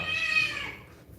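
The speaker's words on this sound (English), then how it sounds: "Just excuse my cat" A pet cat meows once, a drawn-out nasal cry that trails off, fairly close to the microphone during an indoor livestream, with no talking over it.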